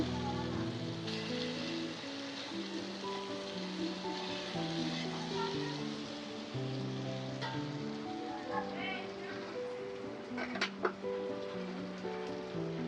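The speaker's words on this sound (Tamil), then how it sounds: "லோ ஃப்ளேமில் வச்சு நம்ம வறுத்தாச்சு." Fish frying in oil over a low flame, a steady close crackling sizzle with scattered pops and a few sharp spatters, while background music plays throughout.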